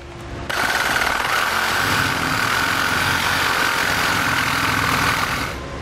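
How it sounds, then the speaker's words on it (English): A reciprocating saw cuts through a part under a 2016 Nissan while an air helper spring kit is fitted. It runs as one loud, steady buzzing drone for about five seconds, then stops. "Now I'm going to use a Sawzall to hack this off."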